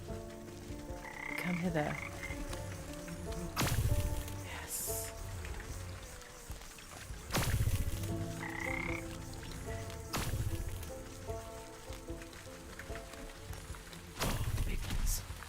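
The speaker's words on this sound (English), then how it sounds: "Oh my god, there's so many frogs over there." Frogs croak repeatedly in the video game Wytchwood over rain-like ambience, with loud thumping game sounds every few seconds and a voice speaking briefly.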